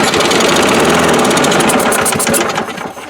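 A 2003 Craftsman 6.25 lawn mower engine sputtering as it tries to start, loud and close, with a fast uneven chugging that runs steadily then fades slightly toward the end.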